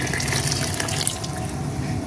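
Chicken-boiling water poured from a pot while cooking chicken for majboos dajaj, a continuous close splashing and trickling stream lasting about two seconds with no talk.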